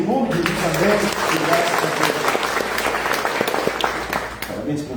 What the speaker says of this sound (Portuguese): Oramos, te aplaudimos em nome de Jesus